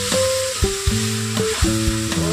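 Tomatoes and broccoli curry frying in a pan, stirred so the steady sizzle is broken by several scraping, clattering stir strokes, loud and close with no talking.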